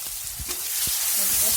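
Vegetables sizzling loudly in hot oil left over from frying fish, a steady close crackle with a few soft stirring knocks.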